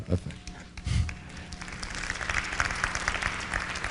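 An audience at a 2008 conference talk breaks into applause, beginning faintly and building into a dense, steady patter of clapping under a speaking voice.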